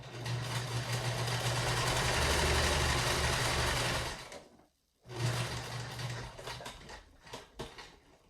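A loud Genome HD 1000 sewing machine runs steadily for about four seconds, pauses briefly, then starts stitching again in shorter, uneven bursts.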